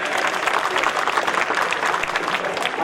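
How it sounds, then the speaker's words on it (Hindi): Steady applause from the audience at a Hindi comic poetry gathering, a dense, even patter of many hands at moderate volume lasting a few seconds. "तालियां कमजोर है भैया।"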